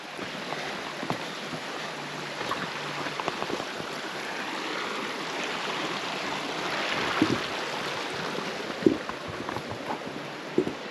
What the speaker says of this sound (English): Always nice to hear some running water.